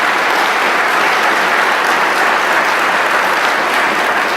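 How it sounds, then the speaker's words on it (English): Sustained applause from an audience at a physician assistant program white coat ceremony, a dense, steady wash of clapping that stays loud and even throughout. "Can we please give Dr. Kiley a round of applause, please?"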